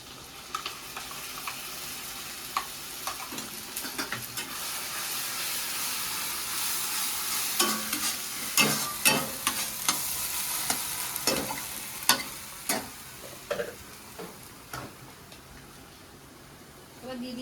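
Onion, tomato and green chilli fry in a pan with a continuous hiss of sizzling oil, punctuated by repeated sharp scrapes and clinks of a stirring spoon, close up, with a voice occasionally speaking over it.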